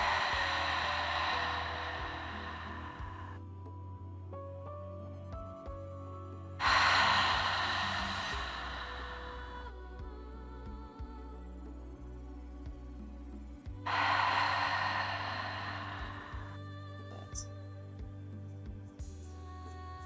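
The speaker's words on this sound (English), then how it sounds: "we're making the ocean sound from our breath" Three long, loud ocean-like ujjayi breaths in a yoga session for the sciatic nerve, each a steady hissing rush lasting a few seconds and separated by quiet pauses, with no talking.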